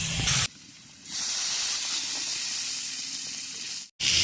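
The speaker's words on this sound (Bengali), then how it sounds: "কাঁচা লঙ্কা চিড়ে রেখেছিলাম এবার আমি ভেজে নেব" Slit green chillies frying in hot oil for a jackfruit-seed and pointed gourd curry, a loud hissing sizzle that drops away briefly, then returns steady and strong before a short cut.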